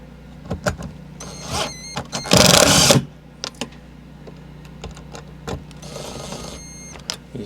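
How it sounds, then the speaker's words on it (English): Screw gun driving screws into an electrical box while an outdoor light fixture is replaced, giving a loud whirring burst of about half a second close by, with clicks and shorter motor whirs around it. "a screw gun really does help."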